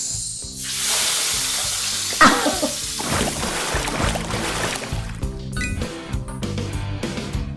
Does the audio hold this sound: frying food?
yes